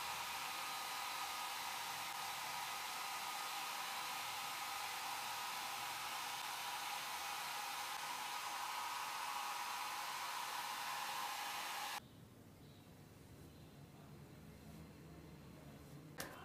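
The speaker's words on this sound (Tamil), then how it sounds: "ஸோ நான் ஹேர் ட்ரையர் வந்து பண்ணுறேன்." A handheld hair dryer blows hair dry at home with a loud, steady whoosh of air for about twelve seconds, then switches off, leaving a quiet room hum.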